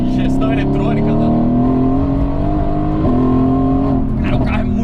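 Mercedes-Benz AMG GT S engine revving loudly up close, a deep sustained roar with rising and falling pitch as the throttle changes, dominant throughout with a voice heard faintly at times.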